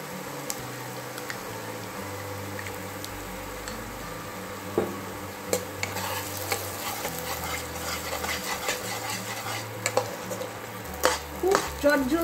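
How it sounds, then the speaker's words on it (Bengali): White sesame, poppy seed and onion paste frying with aubergine in a pan, with soft sizzling under repeated stirring and occasional sharp utensil clinks against the pan. "এবার এর মধ্যে আমি দিয়ে দিচ্ছি যেগুলো ওই সাদা তিল, পোস্ত আর পেঁয়াজ বাটাটা"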